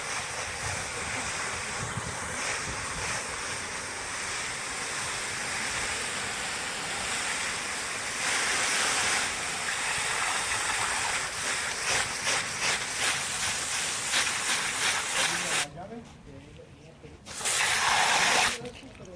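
A garden hose sprays water onto a car wheel and tire rim, a steady broadband hiss running close and continuous for most of the stretch, briefly cutting out near the end before a louder burst.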